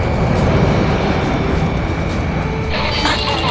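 Aircraft drone steadily through a game combat scene in Ace Combat 6, a dense broadband engine roar filling the clip at high level, with a brighter rushing layer swelling near the end.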